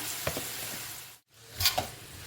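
About five large sliced onions hit hot oil for chicken biryani, giving a close, steady sizzle with stirring scrapes, cut by a brief gap of silence before the frying resumes.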